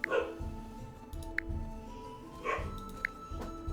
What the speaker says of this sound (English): The dog says hi.